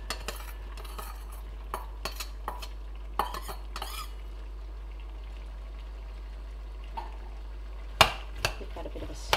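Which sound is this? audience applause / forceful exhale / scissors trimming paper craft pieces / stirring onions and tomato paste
stirring onions and tomato paste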